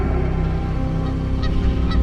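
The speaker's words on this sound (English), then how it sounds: "This is a family of geese." A family of geese on the water honks loudly and continuously, close by, with no voices over it.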